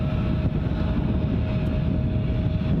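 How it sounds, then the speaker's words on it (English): KLM Embraer 175 airliner bound for Amsterdam from Glasgow airport, a steady low engine rumble with a faint sustained tone, even in level and heard alone. "the sound you can probably hear is the KLM flight back to Amsterdam, the Embraer 175 standard"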